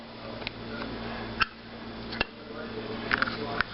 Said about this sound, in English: I'm going to add a lid